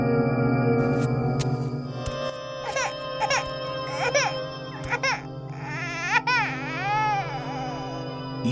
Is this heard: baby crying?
yes